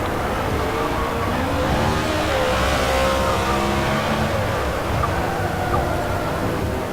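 Two Porsche race cars battle on track, engines roaring loud and steady with rising and falling pitch as they rev and pass, no voices.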